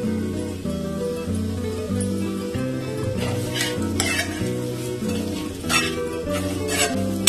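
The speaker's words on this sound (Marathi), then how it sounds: "1-2 मिनिटं परतून घेऊ आपण अशा प्रकारे, कारण की आपले बटाटे ऑलरेडी शिजलेले आहेत" Cooked potato chips sauté in a pan for a bhaji, with rhythmic scraping and stirring of a spatula over a soft sizzle, close and continuous.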